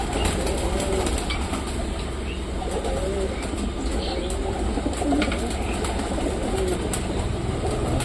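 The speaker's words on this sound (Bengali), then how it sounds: "তো এবার আমি টোটালি সব কটা পায়রাকে ছেড়ে দিই" Pigeons cooing softly in a low steady murmur of overlapping calls, with a few wing flaps among them, heard at close range against constant background noise.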